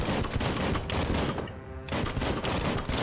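Dense bursts of rapid gunfire in the Biomutant video game, a near-continuous loud crackling volley with a short lull in the middle before the shooting resumes.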